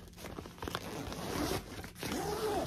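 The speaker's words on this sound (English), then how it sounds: "the actual zipper on the bag" A zipper is pulled along a SHEIN bag in a few quick, close, rasping strokes, with soft fabric rustling between them.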